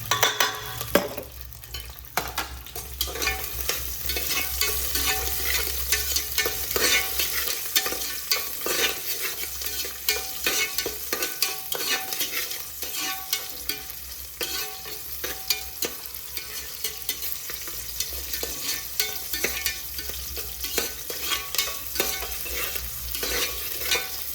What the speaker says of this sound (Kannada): ಸ್ವಲ್ಪ ಎಣ್ಣೆ ಹಾಕ್ಕೊಂಡಿದ್ದಾರೆ ಕರ್ಬೇವಿನ ಸೊಪ್ಪು